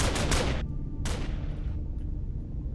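Bursts of automatic machine-gun fire in a Minecraft zombie apocalypse battle, two loud rapid volleys with a short gap, then a fading tail of distant shots and low rumble.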